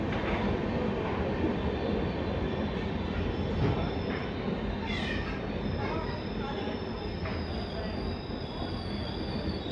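Durg Puri Intercity 18426 pulling into Bhilai Power House station, a steady loud rumble of rolling wagons with faint wheel squeal and scattered station voices throughout.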